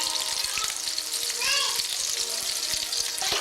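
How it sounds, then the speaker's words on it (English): Meatballs fry in rendered sausage fat with a steady, loud broadband sizzle throughout, while children's voices chatter faintly in the background. "While the meatballs are cooking"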